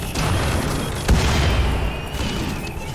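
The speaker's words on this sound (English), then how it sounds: "And I got some shells off. A little bit of explosion." Shell explosions in the video game RimWorld, a dense low boom with a sharp burst near the middle and a rumbling, crackling wash of in-game battle noise throughout, fairly loud.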